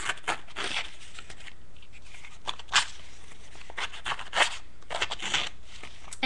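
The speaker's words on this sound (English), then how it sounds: "I'm really gonna be rough with my paper here." Scissor blades scrape and rasp along paper edges in short, irregular bursts, roughing the edges, close to the microphone, with no talking.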